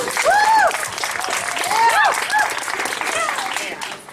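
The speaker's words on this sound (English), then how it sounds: "Let's give a round of applause really quick." An audience applauds at a Halloween Horror Nights media event, with steady clapping throughout and a few voices or cheers rising over it.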